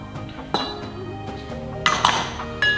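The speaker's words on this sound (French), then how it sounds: "on va juste tout mélanger ensemble jusqu'à avoir une pâte homogène" Utensils clink and scrape against a bowl while icing sugar, almond powder and water are mixed into almond paste, with a few sharper knocks and rings over steady stirring; no talk.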